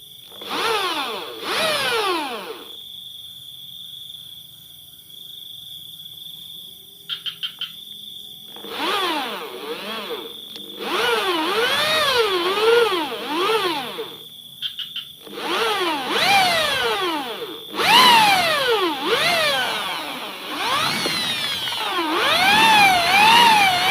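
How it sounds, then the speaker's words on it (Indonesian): A power drill whines in repeated bursts while working on a Honda Supra PGM-FI motorcycle, pitch rising and falling as it bites, with short pauses between runs, close and loud. "Terus kita tusuk sama bor yang lebih panjang di atas ataupun lebih besar."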